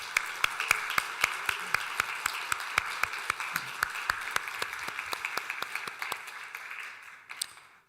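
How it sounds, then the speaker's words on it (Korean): A church congregation at a year-end Sunday service applauds with a sustained, evenly paced round of clapping, moderately loud and close, tapering off and stopping near the end. "우리 두 분을 위해서 축복하고 격려하는 박수 하도록 하겠습니다"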